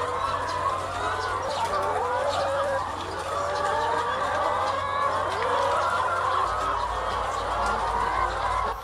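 Laying hens cluck and chatter steadily in a coop holding about 1,200 birds, a dense, continuous flock murmur with overlapping calls close by and no voices.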